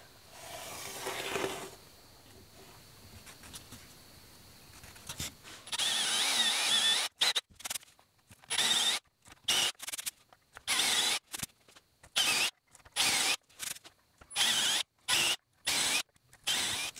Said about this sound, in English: now we'll drill some holes and get them set up